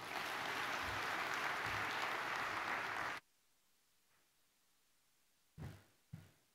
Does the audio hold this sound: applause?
yes